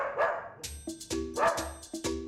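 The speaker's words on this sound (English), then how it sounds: "Or it could be a really aggressive dog" An aggressive dog barking at an airport, several loud, harsh barks in an uneven rhythm, close by, with no talk over them.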